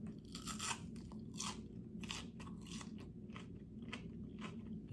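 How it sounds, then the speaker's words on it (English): Crunchy Arby's potato cakes being bitten and chewed up close: a quick series of sharp, crisp crunches, about a dozen, in an irregular rhythm over a low background hum, with no speech. "You hear how crunchy that is?"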